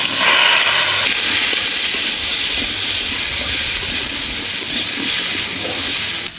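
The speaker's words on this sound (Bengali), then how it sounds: "মাছ ভাজা তেলে কচুগুলো হালকা করে ভেজে নেব।" Taro pieces fry lightly in oil left over from frying fish, producing a loud, dense, unbroken hiss and sizzle close up that runs the whole time and eases just at the end.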